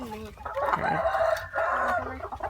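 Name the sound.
chickens clucking in laying-hen coop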